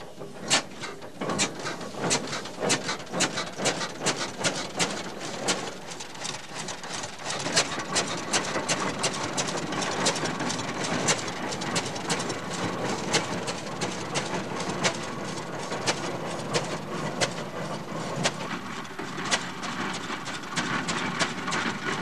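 A rare one-cylinder Hart Parr tractor engine runs steadily, giving a dense, continuous mechanical clatter with rapid repeated knocks throughout, loud and close with no talking.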